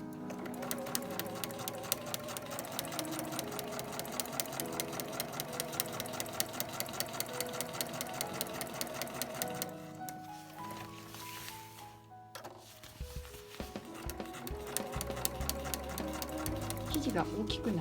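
A home sewing machine stitches a large nylon tote bag in long, steady runs of fast, even needle chatter. It pauses briefly partway through, then resumes, with background music playing throughout.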